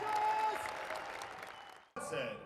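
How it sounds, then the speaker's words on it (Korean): A choir audience of Christian leaders gives a standing ovation, steady applause that fades toward the end before a short burst of other sound cuts in. "공연이 끝나자 모든 관객들이 기립박수를 보내는 진풍경을 연출했습니다"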